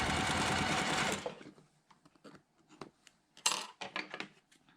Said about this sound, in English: I'm going to stitch on that line.